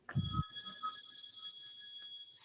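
A phone rings with an incoming call, a close, clear electronic ringtone sounding alone as a single sustained tone burst.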